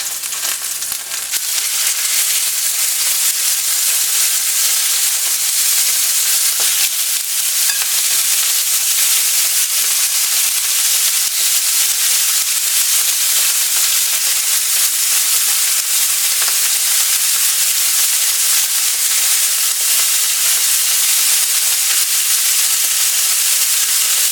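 Meat browns in a hot skillet with a steady, loud, even sizzle and hiss that carries on without pause and with no talking.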